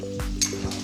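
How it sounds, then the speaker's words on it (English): Great Foods bacon rendering in a pan, giving a soft steady sizzle with a few light clinks of a utensil against the pan. "So I have some Great Foods bacon rendering here"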